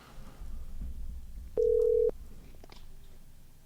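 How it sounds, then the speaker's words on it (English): A phone call ringing tone sounds as a single steady electronic beep lasting about half a second, clear above faint room noise, with no talking. "We live, it's ringing. See if he pick up."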